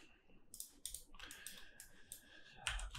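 Computer mouse clicks during layout work in InDesign, a handful of sharp, close, quiet clicks scattered irregularly over a near-silent room background.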